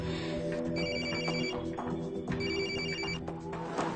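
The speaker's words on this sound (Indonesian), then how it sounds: "Ada telepon mungkin dari istri Mas." A telephone rings in an indoor TV drama scene: two bursts of electronic ringtone trill, each about a second long, repeating at a steady pace over a low background hum, with no talking.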